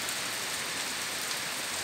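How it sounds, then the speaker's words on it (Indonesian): Steady rain falls in Kuala Kapuas, Kalimantan, near the Kapuas River, after about an hour of downpour, a dense continuous hiss without a break. "Dan intensitas hujannya sudah mulai menurun ya."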